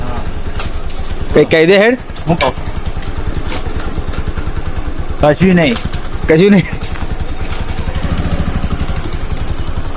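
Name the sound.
modified motorcycle engine idling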